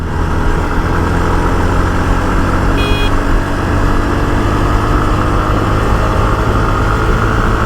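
Jawa Perak BS6 motorcycle engine pulling hard under acceleration, a steady loud droning roar with heavy low rumble and wind rush throughout, no talking.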